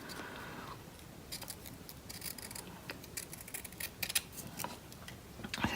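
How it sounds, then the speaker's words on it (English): Scissors snip thin paper strips for a paper mouse finger puppet's whiskers, giving a quick series of close, crisp cuts at an irregular pace with no talking. "I'm going to cut 2 really thin strips."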